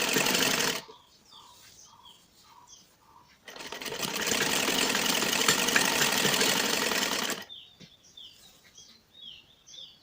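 A sewing machine runs a long continuous stretch of loud, fast whirring while stitching a salwar seam, bracketed by short bursts and birds chirping softly in the background.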